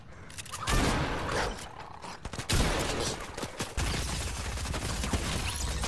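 Gunfire from the video game Fortnite, a volley of heavy shots and crackling bursts layered over game noise, fairly loud and continuous, with no talk over it.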